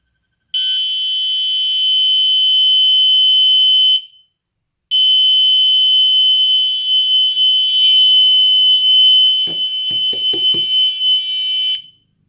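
A toy gel/Nerf sound grenade, set off by pulling its pin, shrills a loud, piercing electronic alarm continuously, breaks off briefly, then resumes with a few clicks and rattles near the end.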